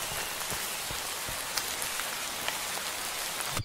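Reworked Minecraft rain ambience: a dense, even patter of drops hitting surfaces, with occasional sharper individual drips standing out, constant and alone with no talk.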